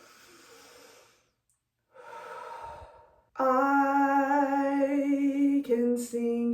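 Deep breaths drawn in and let out slowly, close and clear, two long airy inhale-exhale sounds separated by a short pause, followed by a sustained sung vocal note.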